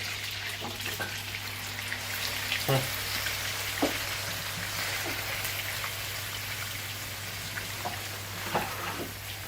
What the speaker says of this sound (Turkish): Yağımız iyice kızardıktan sonra etimizi üzerine ilave ediyoruz